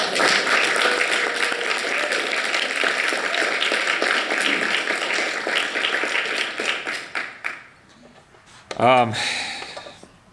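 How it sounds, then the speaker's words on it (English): A congregation at a Sunday water communion service claps in sustained, even applause for several seconds. The applause fades out, and a short burst of voice follows. "So I would like to give them another round of applause."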